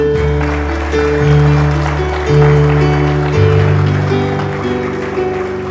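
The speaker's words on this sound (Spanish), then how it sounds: "¿Cuántos aplauden el nombre del Señor?" Church congregation applauding during a Spanish-language sermon on anointing, a steady broadband wash of clapping heard alongside sustained organ or keyboard tones throughout, loud and continuous.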